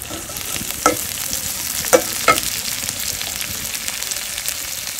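Chopped onions and chili frying in oil on a raised flame give a continuous bright sizzle, broken by three short scraping stirs early on, close up and without speech.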